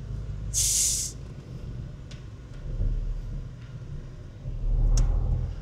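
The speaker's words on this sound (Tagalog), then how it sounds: "Sobrang traffic guys dito sa Marcos Highway." Heavy traffic crawling along Marcos Highway during a typhoon: a constant low engine rumble, with a sharp burst of air-brake hiss near the start and another toward the end.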